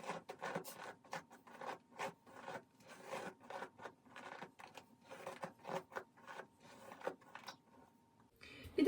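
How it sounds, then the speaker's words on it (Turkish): A comb pulled through curly hair in quick repeated strokes, making dry scratchy rasps roughly every half second, close and fairly quiet, with a sharper knock at the end. "Şimdi ilk olarak tarayayım diyorum. Taramakla başlayalım."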